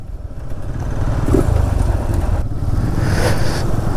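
A motorcycle climbs a hill near Bangalore, its engine a steady, loud, close drone under load that rises slightly in effort partway through, with no talk.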